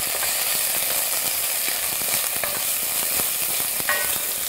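Beans and carrot sautéing in a hot pan, a steady close sizzle with scattered crackles and occasional scraping stirs throughout, no voices.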